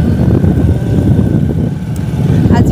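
A motorcycle engine drones steadily while riding toward town, a loud continuous rumble mixed with wind noise throughout.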